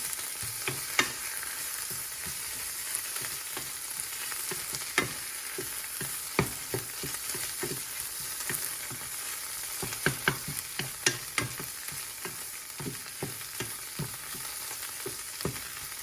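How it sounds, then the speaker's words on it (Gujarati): Garlic being stirred into spinach in a pan, a steady soft sizzle broken by scattered spoon scrapes and taps, close and fairly quiet with no talking. "આપણે લસણને ભાજીમાં બરાબર મિક્સ કરવાનું છે."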